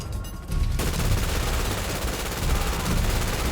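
Sustained automatic gunfire from a GTA V gunfight fills the scene, starting with a brief quieter moment and then a dense, continuous loud barrage of rapid shots with no pause.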